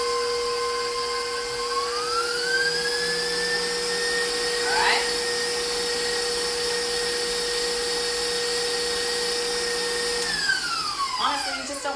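An electric mixer whirs steadily as it blends cream cheese cookie dough for low-carb chocolate cookies, its pitch rising and holding level before winding down near the end, loud and close with no talk over it.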